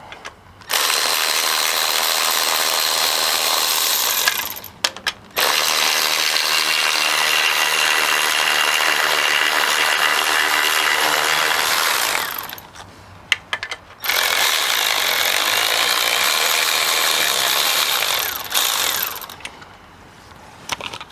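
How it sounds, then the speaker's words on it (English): A ratchet backing out 17 mm bolts from a Mazda 3 torque mount, three long bursts of rapid, loud mechanical clicking close by, separated by brief pauses, with no talk over it. "we'll just go ahead and ratchet them out now"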